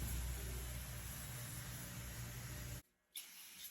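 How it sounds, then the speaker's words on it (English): Brake cleaner sprays onto a Continental Z134 engine from a Massey 35 tractor: a loud, close, steady hiss for almost three seconds, a brief pause, then a short second burst. "I'm going to brake clean it off a little bit"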